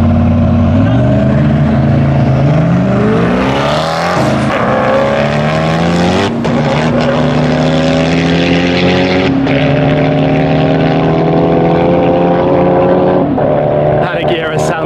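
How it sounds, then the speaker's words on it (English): A Koenigsegg Agera hypercar at full load in a drag race, engine revving hard through rising pitch sweeps with gear shifts, loud and sustained, with talking over it. "That Agera sounds good."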